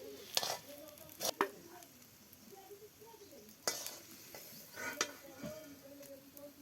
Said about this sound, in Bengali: চামড়াটা ভাজি হয়ে গিয়েছে, এখন আম্মু তুলে নেবে।